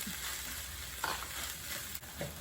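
Ground beef filling being mixed with clear noodles in a pan, a soft continuous sizzle with faint stirring scrapes, close and fairly quiet with no voices.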